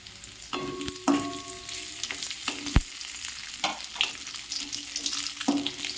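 Raisins fry in a pan of hot oil for basanti pulao, a moderate crackling sizzle under repeated spatula scrapes and stirring knocks, close and steady.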